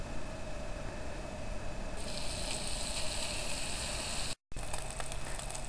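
Four slices of bacon sizzling in a little oil in a pan, a steady broadband hiss that swells louder partway through and runs continuously, with a brief dropout near the end.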